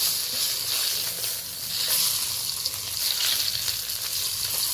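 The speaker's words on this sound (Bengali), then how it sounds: "বড় মাথা অনেকটা সময় ধরে আমি ভালো করে ভেজে নিয়েছি" Steady, loud sizzling of a large catla fish head frying in hot oil, a dense crackling hiss that continues without pause throughout.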